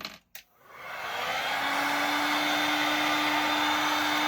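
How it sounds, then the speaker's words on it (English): A heat gun drying paint on a snowman's hat craft project: after a brief click, a steady, loud blowing roar with a thin constant whine holds without a break. "I will use my heat gun to quickly dry the paint"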